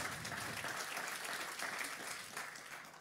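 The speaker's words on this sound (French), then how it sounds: "Oui, je crois qu'on peut applaudir." Sustained audience applause fills the hall at a bilingual panel discussion on Europe, a steady dense wash of clapping with no talk over it, fading slightly near the end.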